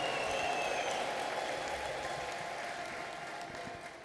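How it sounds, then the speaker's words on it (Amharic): A church congregation in Addis Ababa breaks into sustained applause, a dense steady wash of clapping that fades slightly toward the end; ululation is not distinct within it. "እልልታ ጭብጨባ"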